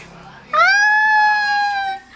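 A newborn kitten lets out a single loud, drawn-out, high meow lasting over a second, close to the microphone, with faint household background before and after.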